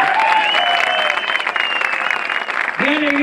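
Steady audience applause at a payador's performance, a dense and loud clapping that fills the whole stretch, with a voice carrying over it and a brief tonal swell near the end.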